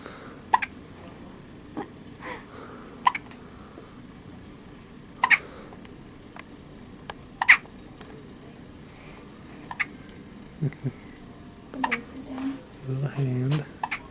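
A sleepy infant girl hiccuping, lying in bright sun, with short sharp hiccups scattered every couple of seconds, close and distinct over a quiet background, with faint soft voices near the end.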